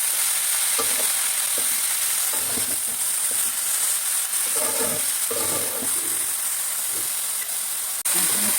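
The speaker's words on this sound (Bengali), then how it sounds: "বেগুন দিয়ে ভাজা ভাজা করলেই হয়ে যাবে আমার কলই শাক ভাজা" Pea leaf greens fry in a pan with salt and turmeric: a constant close sizzle and hiss, broken by scraping, clattering strokes of a spatula stirring at irregular intervals.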